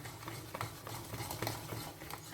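Buttermilk cornbread muffin batter stirred in a bowl with a utensil, a soft continuous scraping and patting with occasional light clinks against the bowl, fairly quiet and steady throughout.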